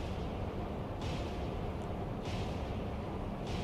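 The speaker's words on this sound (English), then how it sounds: "This guy is opening up with guns." Naval gunfire from the submarine game Cold Waters booms in a steady dull rumble, with muffled bursts arriving at about one-second intervals. The shots sound distant and heavy, with no voices.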